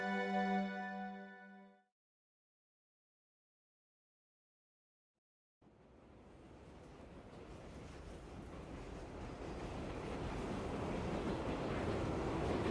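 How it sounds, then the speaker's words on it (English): Train sound in the Tsukihime remake video game: after a brief sustained tone and a few seconds of silence, a broad rumbling wash of noise starts abruptly and swells steadily louder, as if a train is approaching. "I hear a train."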